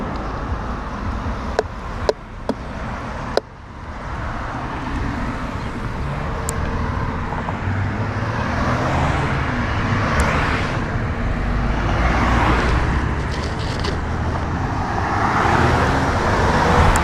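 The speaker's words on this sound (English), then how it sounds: "It's lunchtime now, so there's a lot of cars out and about." Midday road traffic, with many cars passing one after another on a busy road, heard as a continuous swelling roar of engines and tyres, loud and close, plus a few sharp clicks near the start and no voices.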